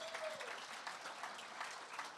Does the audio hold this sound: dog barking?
no